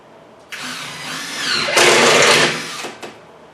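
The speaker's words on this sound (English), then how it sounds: "I'm going to run a few screws in it." A power drill drives a screw into the wooden floor of a small animal shelter, one close whirring burst of about two and a half seconds that builds in strength and then cuts off.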